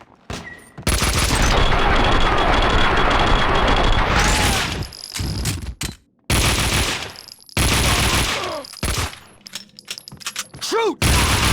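Sustained bursts of automatic gunfire in Max Payne 2, loud and close, with long rattling volleys broken by brief pauses and scattered single shots.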